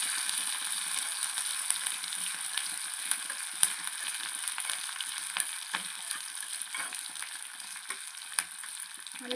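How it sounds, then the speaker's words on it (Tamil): Mustard seeds and onions frying in oil for a bitter gourd curry, giving a fairly quiet, steady hiss and crackle with occasional small pops and light stirring scrapes. "நல்லா பொன்னிறமாக வதங்கணும்."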